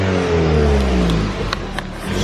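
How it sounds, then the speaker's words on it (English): A modified Ford Fiesta ST with a turbo and an exhaust leak from the back box revs up loudly nearby, the engine note climbing and then dropping away with a faint whooshing flutter as the revs fall. "Turbo sound."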